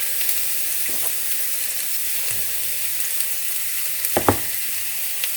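Vegetables frying in hot oil, a steady bright sizzle and hiss with a few soft clicks and stirring knocks, close and with no one talking.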